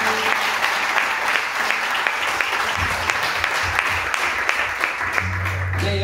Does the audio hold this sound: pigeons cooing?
no